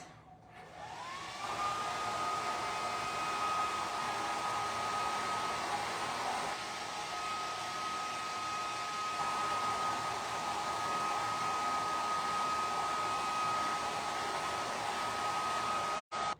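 A hair dryer runs continuously at close range, drying paint on a Valentine's chalkboard craft project, with a steady whooshing roar and a sustained tonal whine, then cuts off abruptly at the end.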